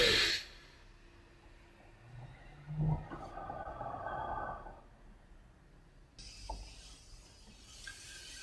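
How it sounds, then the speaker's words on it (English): A slow, deep breath drawn in and released during a guided relaxation, soft and close, with a long quiet exhale alone in a hushed room. "Take a deep breath."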